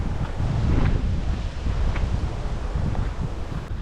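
Strong, cold wind buffets the microphone in a continuous roaring gusty rush outdoors on a walk to work in New Zealand, loud and close with faint rustling, and no voices.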